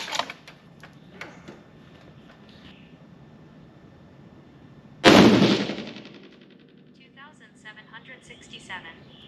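A 6.5 PRC rifle firing an IMR7828SSC load at a shooting range lets off one sharp, loud shot that rings out and fades over a second or two, with quieter handling sounds and brief talk around it.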